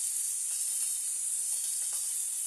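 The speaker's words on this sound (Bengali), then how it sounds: "আমি পাবদা মাছগুলো লবণ হলুদ মাখিয়ে এভাবে ভেজে নিচ্ছি।" Pabda fish coated in salt and turmeric frying in hot oil, a steady bright sizzle and hiss throughout, close and continuous with faint pops, no voices.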